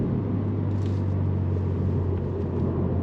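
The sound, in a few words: Subaru WRX with CVT automatic transmission accelerating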